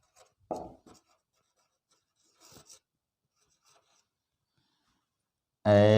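Pen scratching on paper while writing out a geometry proof for a class 9 theorem, giving a few short, close scribbling bursts separated by quiet pauses before a voice begins speaking at the end.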